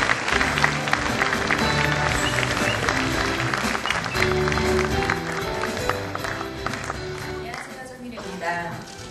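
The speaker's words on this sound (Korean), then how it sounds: "뜨거운 박수 부탁드리겠습니다" Audience applause at the Seoul Christian Film Festival for its promotional ambassador, actress Sung Yu-ri, with dense clapping and music heard together, held steady for about nine seconds before easing slightly at the end.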